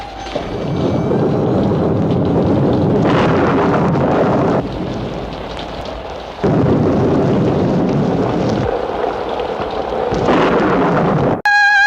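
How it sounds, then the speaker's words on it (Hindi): A thunderstorm rages outside in a 1963 Bollywood film, with heavy rain and rolling thunder. Loud sustained rumbles and crashes come in several surges over the storm's constant roar, ending in a brief tonal sound. "बाहर तूफान है।"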